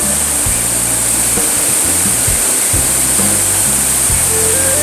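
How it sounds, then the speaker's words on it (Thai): A steady, loud rush of falling water, a continuous roaring wash with a low rumble underneath, close by and unbroken. "อันนี้คือ น้ำที่ตกลงมาครับ"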